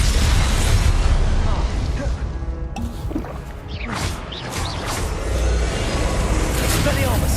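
Loud blasting bursts from the Confringo fire-blasting spell in a Hogwarts video game, rumbling booms layered over dense game sound effects and music, with a voice talking throughout.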